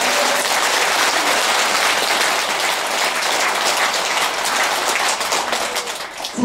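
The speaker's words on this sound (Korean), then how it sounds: "박수 한번 부탁드리겠습니다" A large audience applauds at a Buddhist broadcasting station's 25th anniversary ceremony, with thick continuous clapping that holds loud and then thins slightly near the end.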